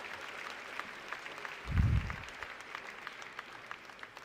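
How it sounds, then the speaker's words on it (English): Audience applause rings out at a Circular Valley demo day event, a steady wash of clapping with a brief louder swell partway through. "So that's your applause"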